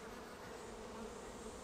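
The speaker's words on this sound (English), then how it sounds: "The bees are busy feeding them" Honey bees inside an open hive tending brood, a faint, continuous buzzing hum with no break and no talk.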